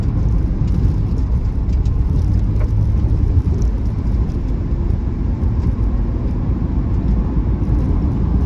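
A 1982 BMW E21 320 two-door automatic driving on the road, steady low engine drone and road rumble heard from inside the cabin, loud and continuous with no talk.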